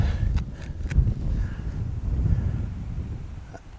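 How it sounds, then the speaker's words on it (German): Steady wind gusting across an open golf course at Golf Club Einbeck, a low rumbling buffet on the microphone with a few faint clicks, heard alone without talking. "der Wind kommt also wirklich blanko von vorne, leicht von rechts"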